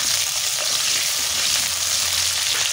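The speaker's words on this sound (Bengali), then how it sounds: "পেঁয়াজ কেমন ভাজা হয়ে যাবে।" Onions sizzle loudly in hot oil in a pan while a jackfruit and chicken curry is being cooked, a steady close crackling hiss throughout with no talking.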